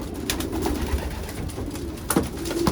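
Soft, low racing pigeon coos repeating at an unhurried pace at a pigeon loft over a steady background hum, fairly close by.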